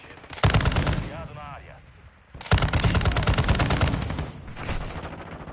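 Video game gunfire rattles in two long, dense automatic bursts and a shorter third one, loud and close, with a brief voice in a quieter gap between them.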